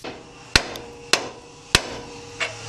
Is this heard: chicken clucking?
no